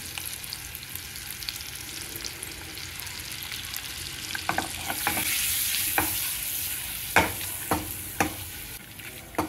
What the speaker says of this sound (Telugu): ఇలా వేయించుకోవాలండి.